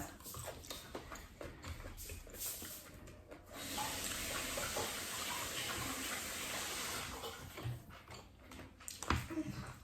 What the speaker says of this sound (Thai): อิ่มแล้วล้างมือ